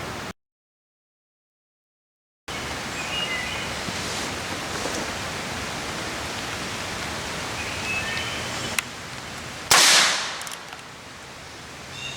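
Steady rain falling outdoors on wet ground at a shooting range, a continuous broadband hiss that holds through the clip, with a few sharp louder bursts near the end.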